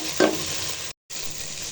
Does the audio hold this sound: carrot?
yes